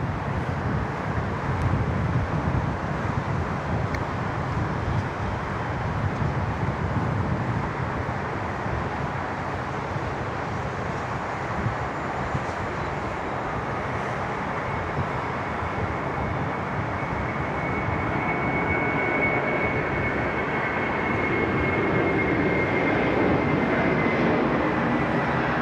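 Jet airliner taking off from Sydney Airport, a loud sustained roar of engines at full thrust that swells steadily with a rising whine near the end, heard alone without talk.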